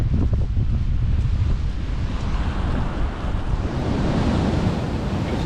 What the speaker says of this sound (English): that wave just slosh up against the wall